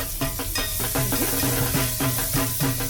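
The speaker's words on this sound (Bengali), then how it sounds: "কড়াইটা আমি বসিয়ে দিয়েছি, অল্প একটু বাটার দিয়ে দেব। আর বাটারটা একটু মেল্ট হয়ে যাক।" Butter melts and sizzles in a kadai on the stove, a steady hiss broken by rhythmic scraping as the pan is stirred, with a faint musical tone running underneath.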